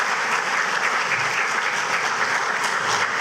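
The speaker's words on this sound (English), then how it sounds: "Give yourselves a round of applause for being here this morning." A morning conference audience gives itself a round of applause, a steady mass of clapping at moderate loudness with no talking over it.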